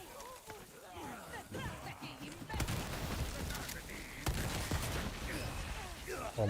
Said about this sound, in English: Oh man, so many explosions.